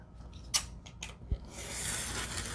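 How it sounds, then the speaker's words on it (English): Scissors snipping the rough edges of book cloth on a junk journal cover, a few crisp close cuts followed by a longer soft rasping slide of the blades through the fabric. "Maybe just cut off these rough edges."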